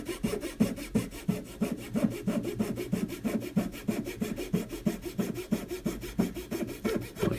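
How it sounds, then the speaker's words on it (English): A small hand saw cuts a wooden part for a Yamato battleship scale model in quick, even back-and-forth strokes, close and crisp, about three strokes per second and steady throughout. "I just find it easier just to use a little saw and taper it that way."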